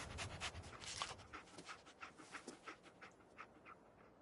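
A dog pants rhythmically in the Fallout 4 video game, in quick, breathy huffs that are close and moderately loud, steady at first and easing slightly toward the end, with no speech.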